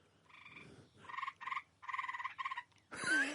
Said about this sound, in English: We have tree toads living under the umbrella.